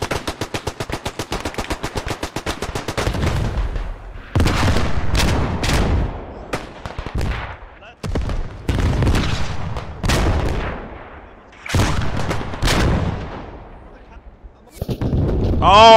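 Dense bursts of machine-gun and rifle fire with booming explosions and artillery in the WW1 first-person shooter Beyond the Wire, a 50-versus-50 battle; rapid loud volleys come in waves with brief lulls, and a voice speaks between them.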